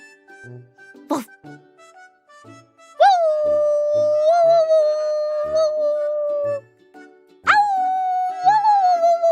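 A voice imitates a dog, giving a short yelp, then two long sustained howls with wavering pitch, close and loud, with faint soft sounds between.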